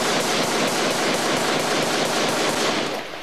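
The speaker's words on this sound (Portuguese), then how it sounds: "Nem a polícia suportou o barulho dos tiros." Dense, continuous bursts of rapid gunfire fill the scene, loud and sustained throughout, tapering slightly at the very end.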